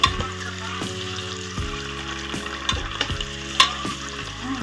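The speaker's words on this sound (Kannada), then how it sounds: "ಇವಾಗ ಕಟ್ ಮಾಡಿಟ್ಕೊಂಡಿರೋಂಥ ಮೊಟ್ಟೆನ ಇದರಲ್ಲಿ ಹಾಕಿ ಫ್ರೈ ಮಾಡ್ಕೊಳ್ಬೇಕು" Cut boiled eggs fry in hot oil for egg biryani, a close, busy crackling sizzle with stirring scrapes running throughout, with no voices.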